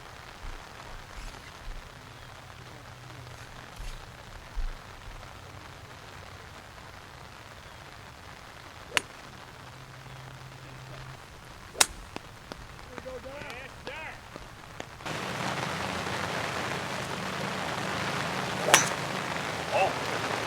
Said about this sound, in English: It's raining, it's a little muddy.